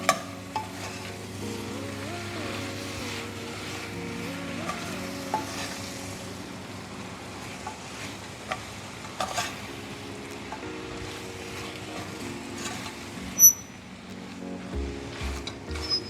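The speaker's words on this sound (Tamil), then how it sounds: "மட்டனை சேர்த்துட்டு நல்லா ஒரு 5 மினிட்ஸ்க்கு இதை நம்ம வதக்கிப்போம்." Mutton pieces sautéing in a pan for a mutton kuzhambu, a soft steady sizzle under intermittent stirring scrapes and a low background hum, fairly quiet and close, with a sharper clink near the end.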